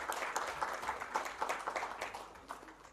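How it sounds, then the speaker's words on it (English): A conference audience at the India Internet Governance Forum 2023 applauds the arriving minister with steady, moderately loud clapping whose individual claps stay distinct throughout. "with a generous round of applause, let's welcome"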